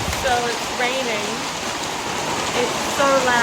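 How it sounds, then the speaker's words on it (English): Heavy rain pouring steadily, a dense loud wash of falling water with no pause, while a background voice drifts in and out underneath. "So it's raining."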